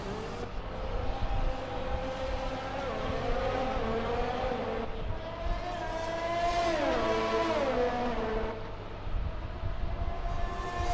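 Race cars in F1 2020 on the Baku street circuit sweep through corners. Several high engine whines rise and fall in pitch as they rev, shift and pass, fairly loud and continuous.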